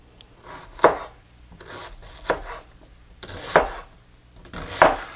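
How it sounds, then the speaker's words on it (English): A knife cuts an onion into large slivers on a board, four distinct chops spaced about a second and a half apart, each a sharp close knock with a brief rasp of the blade between. "we're just going to cut the onion into large slivers"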